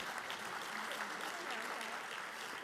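Steady applause from an audience at a school district Teacher of the Year ceremony, honoring a teacher; continuous dense clapping at moderate distance, fairly quiet, with faint crowd murmur.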